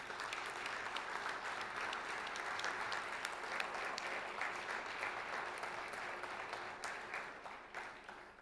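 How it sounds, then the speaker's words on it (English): A large conference audience at a closing session in Morocco applauds its hosts, a dense, sustained wash of clapping hands that stays loud and steady before gradually thinning toward the end. "I was going to ask you to applaud our hosts and the leaders, but you have preceded me"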